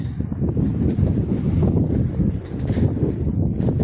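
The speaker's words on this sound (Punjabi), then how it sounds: "ਹਵਾ ਬਹੁਤ ਤੇਜ਼ ਚੱਲਦੀ ਅੱਜ" Strong, gusty wind buffets the microphone in a continuous low roar, rising and falling slightly throughout.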